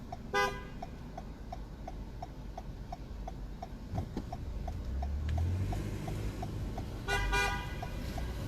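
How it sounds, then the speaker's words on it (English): Car traffic on 2nd Avenue in Manhattan, with a honking horn near the start and again near the end, a steady rhythmic ticking signal throughout, and a low engine rumble swelling as vehicles pass. "As far as cars, there's always like traffic"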